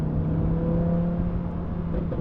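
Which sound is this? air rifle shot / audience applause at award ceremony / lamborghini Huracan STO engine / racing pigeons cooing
lamborghini Huracan STO engine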